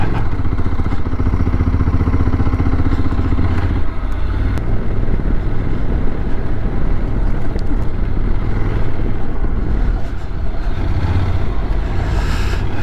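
A motorcycle ridden along a road in Catalonia, with loud, continuous engine drone and wind rumble throughout and a brief dip and jolt partway through as it goes over bumps.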